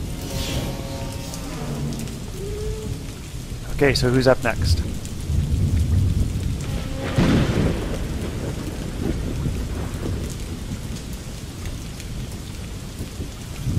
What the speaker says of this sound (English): You guys are left sitting there as the rain is falling around and the thunderstorm.